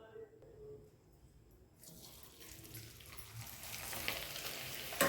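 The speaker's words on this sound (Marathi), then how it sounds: "मी तुम्हाला आधीनं हे पापड तळून दाखवते" Raw banana and sago papad drops into hot oil and starts frying, a hiss that swells from quiet to a steady close sizzle over the final seconds.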